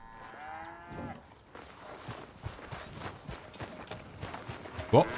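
A cow moos at the start in Red Dead Redemption 2, followed by soft thumping footsteps and clattering movement, ending in a brief sharp sound; fairly quiet overall.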